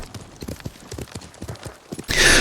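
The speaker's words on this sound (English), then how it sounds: "the horse charge that I'm doing is actually a special skill of our horse" Horse galloping in the video game Ghost of Tsushima, a quick rhythmic run of hoof clip-clops followed by a sudden loud rushing burst at the end.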